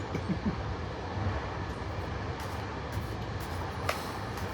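Steady low rumble and rattle inside a moving train carriage on a long passenger journey toward Fez, continuous and moderately quiet, with faint knocks and no clear talk.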